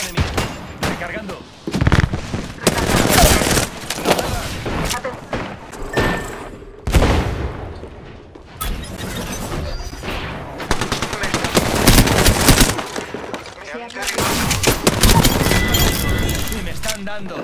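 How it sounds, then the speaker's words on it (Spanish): Rapid automatic gunfire and bursts of shots in the video game Apex Legends, loud and dense, with repeated volleys, impacts and shattering crashes filling the scene. "Atención, me están disparando."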